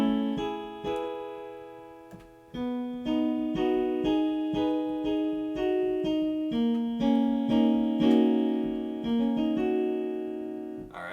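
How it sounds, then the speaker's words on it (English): Solo piano plays the second section of a song, struck chords rising in a three-measure phrase over sustained bass notes, clear and close with a brief pause early on. "Section 2 will sound like this."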